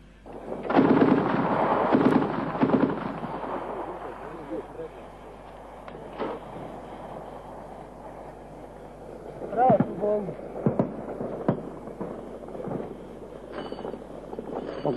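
Gunfire during the 1991 attack on Pakrac hospital at the new hospital building, sharp reports and bursts scattered through the clip, some close and loud, others more distant, with voices talking in between.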